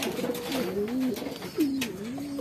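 Pigeons cooing up close, a few soft, low warbling coos rising and falling in quick succession, faint and alone without talk.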